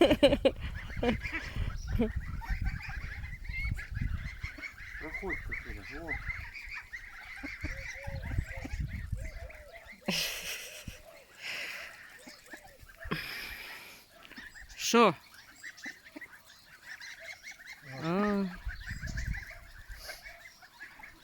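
Geese, including ganders, honk outdoors near a farmyard, with scattered calls, one loud burst and a longer honking run near the end, mixed with quiet talking nearby.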